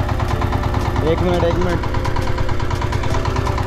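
A tractor engine runs steadily in a muddy village field, a loud, continuous chugging throb close by, with someone talking briefly over it.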